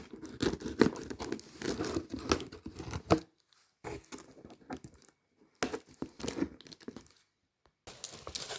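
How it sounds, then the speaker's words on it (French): Cardboard parcel box being opened by hand, close and fairly loud: bursts of crinkling, tearing and scraping with brief pauses, then a second round of rustling handling. "j'ai pu ouvrir le carton"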